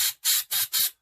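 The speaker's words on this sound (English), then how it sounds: "So just spray a little bit in there." Compressed air duster or keyboard cleaner sprayed in four short hissing bursts onto the glass of a red dot sight on a Sig Sauer P365 XL pistol, close and loud, with brief gaps between bursts.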